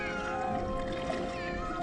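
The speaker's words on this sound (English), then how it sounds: "Would someone shut that cat up?" A cartoon cat meows loudly and repeatedly in a drawn-out, wavering wail over faint background sound, with no speech.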